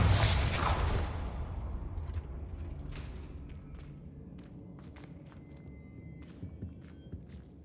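Confringo and Bombarda spells cast in Hogwarts Legacy burst out in a loud, bright blast at the start, then trail into scattered thuds, creaks and crackling impacts that fade to softer ambience.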